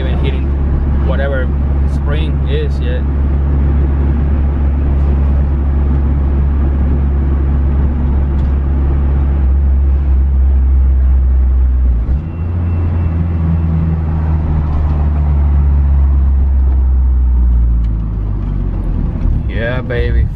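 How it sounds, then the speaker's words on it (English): Turbocharged third-generation Mitsubishi Eclipse on its first drive, with a steady low engine drone and road rumble that shifts pitch partway through, with people talking over it inside the car. "baby, first drive on the turbo Eclipse"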